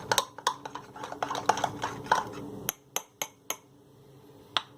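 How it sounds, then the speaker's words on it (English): A spoon clinks repeatedly against a cup or mug while ginger and spices are stirred into a golden latte, giving quick, close metallic taps that start dense and irregular, then thin out to a few isolated clinks. "Stir it up, stir it up, stir it up."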